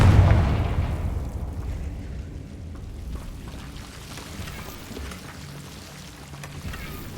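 A Confringo fire spell blast in Hogwarts Legacy opens with a loud, booming burst, then rumbles away into a long, low, crackling decay like distant fire.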